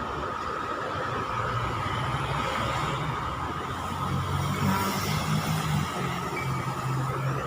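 Steady road traffic flows past on a busy city street lined with tall office buildings, a continuous broadband rumble of passing cars that stays fairly loud and even throughout, with no talking.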